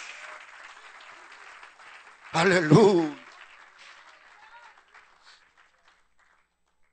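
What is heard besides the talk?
congregation applauding for Jesus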